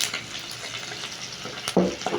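Beef frying in hot cooking oil sizzles softly and steadily in a pan, with a louder spitting burst and light stirring clatter near the end, close and fairly quiet.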